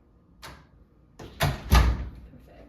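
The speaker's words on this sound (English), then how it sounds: "You just operate the doorknob and then open door away from self and then close door away from self." A doorknob clicks as it is turned, then a door swings open and shuts with two close, solid thuds, loud and near in a quiet room.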